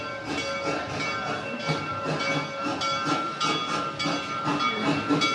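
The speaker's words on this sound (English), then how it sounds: "here comes the train" A train pulls in at the Serengeti area of Busch Gardens, with rhythmic steam hissing and chuffing pulses, faint sustained whistle-like tones and a steady mechanical rumble, fairly close and without talk.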